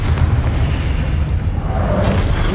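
A Confringo fire spell explodes in Hogwarts Legacy, a magic game, as one sustained, loud, rumbling blast that fills the whole moment with deep, booming noise.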